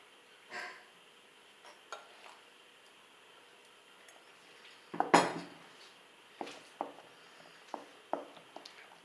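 Tomato pickle in a pot being stirred with a spoon while chili powder is mixed in, giving scattered metallic clinks and scrapes at an uneven pace, one louder clatter midway, fairly quiet and close, with no talking.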